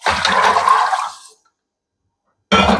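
Soaking water from chickpeas pours into a cooking pot with a loud, splashing gush that tapers off, followed by silence and then a brief second splash.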